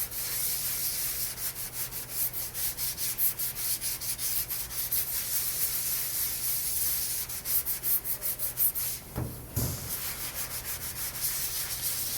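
Hand sanding of metal glaze filler around a dent on a car body panel, a steady rubbing scrape in continuous circular strokes, close and loud, with a brief pause and a knock near the end.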